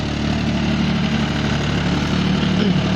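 A 2.9-litre turbo diesel engine on a John Deere 5050D tractor idles steadily and loudly nearby, with a constant low rumble and a faint rattling vibration.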